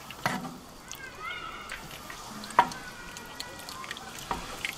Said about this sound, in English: So give it a quick stir.